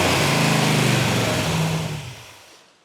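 A V8 car engine, an original 440 Six Pack, roars loudly and steadily while revving, then winds down and fades out toward the end.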